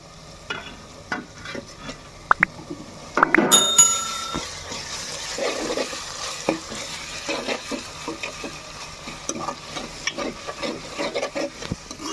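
Ginger garlic paste hits a hot pan with a loud burst of sizzle and spattering, settling into moderate frying with repeated clinks and scrapes of a spoon stirring against the pan; no speech.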